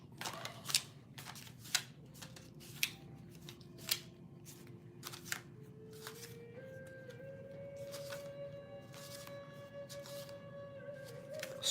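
Tarot cards being shuffled by hand in a series of crisp, riffling bursts, close and fairly quiet, with a soft steady background hum.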